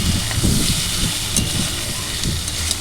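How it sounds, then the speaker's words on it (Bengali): Taro pieces and spices fry together in an oiled wok with a steady bright hiss and sizzle, broken by faint stirring knocks, with no talk. "আমি কচু আর মশলাটা একসাথেই ভাজবো।"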